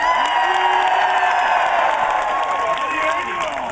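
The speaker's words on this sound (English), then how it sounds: "Let us have a cheer for Daniel!" Spectators at a Renaissance Faire human chess show cheer, whoop and applaud loudly together, a sustained burst of many voices and clapping that fades slightly at the end.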